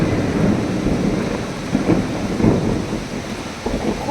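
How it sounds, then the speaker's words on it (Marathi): Heavy first rain of the season pours steadily in Pune, a dense continuous hiss with low rumbling thunder swelling underneath, close and loud without pause. "आज आमच्या पुण्यामध्ये पहिल्यांदा पाऊस आला आहे"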